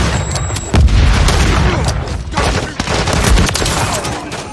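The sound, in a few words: Semtex grenade explosion and gunfire in a video game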